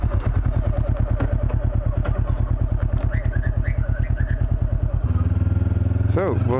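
A motorcycle rides along a road toward a foggy valley, its engine a loud, steady close-up drone with rapid firing pulses, shifting to a smoother tone near the end as the revs change.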